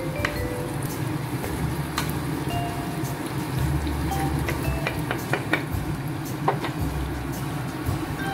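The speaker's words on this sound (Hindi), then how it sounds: "प्याज थोड़ा भूनेंगे" Onions frying in a pan for a Tibetan-style vegetable thukpa, a steady dense crackling sizzle with scattered sharp pops, close and continuous with no talk.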